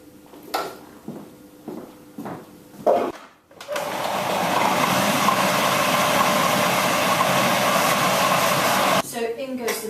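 Blender whizzing a chilli jam mixture, a loud steady whirring roar running for several seconds after some brief clatter and a pause, then cutting off as a voice speaks.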